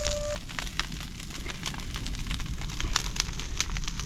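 Open fire burning across a field during traditional pre-monsoon field burning in the Konkan countryside, a steady roaring crackle with scattered sharp pops, heard close and alone.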